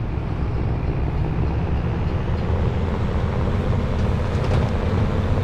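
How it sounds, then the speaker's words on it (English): A train rolls past in Farming Simulator 22, a steady loud low rumble of wheels and wagons that holds at one level throughout with no talking. "the train just went through?"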